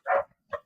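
Dogs barking: two short, separate barks roughly half a second apart, moderately faint, with quiet in between and no talking.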